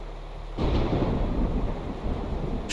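Thunderstorm in the horror video game Neverending Nightmares: a sudden roll of thunder breaks in after a quiet moment and rumbles on loud and steady with heavy rain hiss, with no talk.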